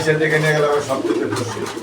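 Pigeons, including fancy pigeons, coo in low, throaty bursts close by, with people talking over them throughout.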